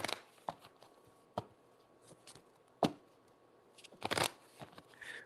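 Quiet riffling and snapping of playing cards being shuffled, a few sharp bursts with soft pauses between, close and faint with no talking.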